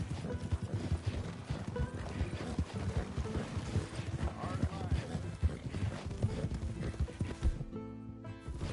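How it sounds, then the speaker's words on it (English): Steady clip-clop of hooves from a donkey walking, continuous rhythmic footfalls close by at moderate level under light outdoor noise. "It's just a donkey"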